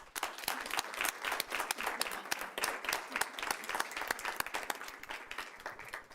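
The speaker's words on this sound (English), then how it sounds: "Please join me in another round of applause." Sustained applause from an audience at a school district board meeting, dense steady clapping filling the room for several seconds with no talk over it.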